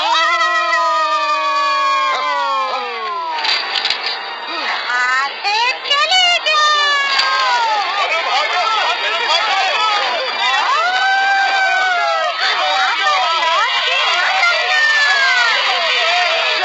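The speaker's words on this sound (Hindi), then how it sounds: "चलो चिल्लाते हैं, ठीक तीन गिनने के बाद" A group of children shouts together loudly in a Hindi Jungle Book cartoon, the high, overlapping yelling sustained and dense throughout, with a cheering crowd-like roar.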